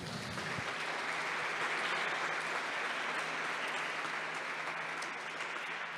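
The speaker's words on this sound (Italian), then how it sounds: "a cui farei un altro applauso" Dense, steady audience applause filling a tech conference hall, a broad wash of many hands clapping at even strength for the full stretch after a brief opening moment.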